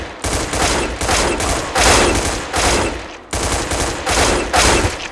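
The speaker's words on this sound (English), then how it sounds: "A 2-shot burst is even tighter than an AK's 2-shot burst on Hipfire" Rapid bursts of rifle fire in Counter-Strike: Global Offensive, several loud close clusters of shots repeating in a steady rhythm with brief gaps between them.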